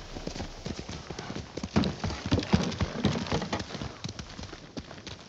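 Horse hooves clip-clop in the video game Ghost of Tsushima, a steady close run of soft, muddy-sounding hoofbeats with a faint rain-like hiss underneath and no talk.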